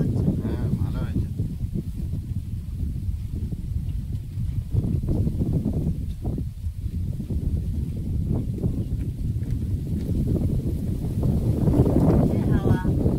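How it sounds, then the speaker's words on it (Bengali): Strong outdoor wind blows hard, buffeting the microphone with a constant deep roaring rumble throughout, with faint voices mixed in. "বিশাল হাওয়া দিচ্ছে।"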